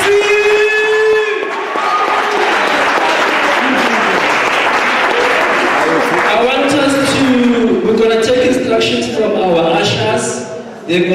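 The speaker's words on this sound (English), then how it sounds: "Come on, clap hands for the MC!" A hall audience at an Africa Day 2022 youth event applauds the MC with sustained, dense clapping and a few cheers, while an amplified voice keeps talking over the applause.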